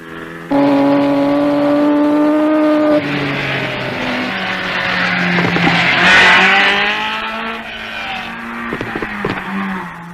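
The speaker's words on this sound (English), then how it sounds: "Everyone's impressed by the 3 white Alphas in close formation." Three white Alfa Romeo rally cars on the 1958 Coupe des Alpes drive past in close formation, engines droning loudly with pitch shifting as they change gear, no talk over the sound.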